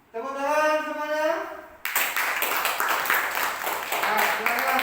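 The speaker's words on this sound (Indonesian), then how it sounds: "tepuk tangan semuanya" Fifth-grade elementary schoolchildren in an Indonesian classroom break into a burst of hand clapping right after a teacher speaks. The applause is dense and lively, fairly close, and continues for several seconds.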